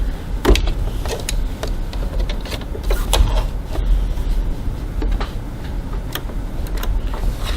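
A sewing machine stitches a seam at 2.4 stitch length while sewing piping, its motor whirring steadily with light rapid ticking from the needle throughout, fairly close and alone.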